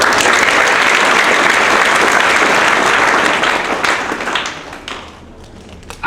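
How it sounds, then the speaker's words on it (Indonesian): An audience at a school visit to SMK Maharati claps loudly and continuously, the dense applause holding steady before thinning out and fading into a few scattered claps near the end. "Tepuk tangan dong untuk Mama."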